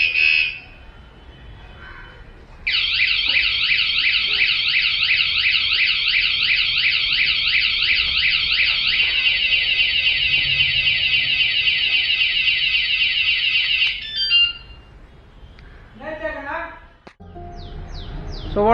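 A loud motorcycle anti-theft alarm sounds a rapid warbling siren for about twelve seconds after a brief chirp, then falls into fading chirps and handling noise.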